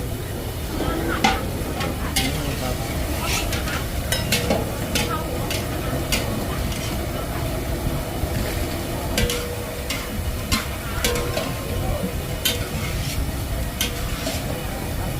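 Food sizzles steadily in a hot wok at a Thai market food stall while a metal spatula scrapes and clinks against it in irregular strokes, close up.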